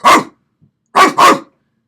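A person imitating a dog bark, three loud close barking sounds, one alone and then a quick pair after a short pause, with no other sound between them.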